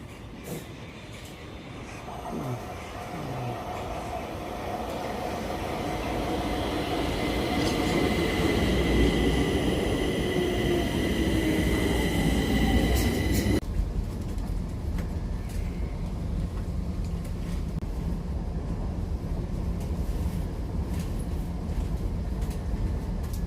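Train arriving at a station in Sweden, a rising rumble with high wheel squeal and brake tones that swells and peaks mid-clip, then cuts to a lower steady rolling noise.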